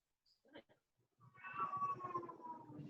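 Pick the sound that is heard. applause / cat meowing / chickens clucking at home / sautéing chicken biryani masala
cat meowing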